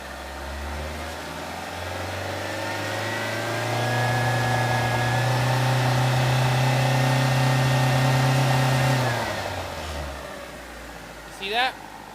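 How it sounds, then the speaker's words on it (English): A car engine idles, then climbs to a sustained higher-rpm hum during an alternator charging test. It holds there for several seconds, then drops back to idle, ending with a brief click nearby. "I'm going to rev it up."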